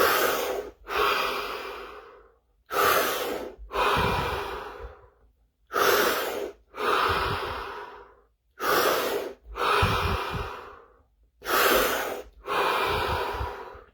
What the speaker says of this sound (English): 7 deep breaths, full minute